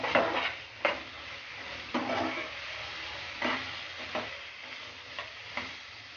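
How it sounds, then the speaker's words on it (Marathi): Mixed vegetables for veg noodles are stir-fried in a pan over a high flame, with a steady sizzle broken by regular scraping stirs roughly every second. No one speaks. "गॅस थोडा आता फुल करायचा आहे आणि सर्व व्यवस्थित असं परतवून घ्यायचं आहे"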